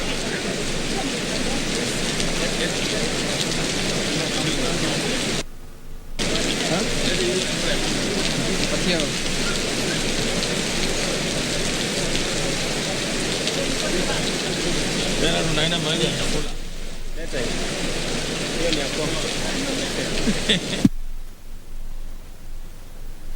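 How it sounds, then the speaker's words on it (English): Heavy rain pours steadily at an outdoor shipyard ceremony in Kisumu County, a dense, loud hiss that continues with only brief breaks. "when it rains, it pours, and indeed it's pouring here in Kisumu County"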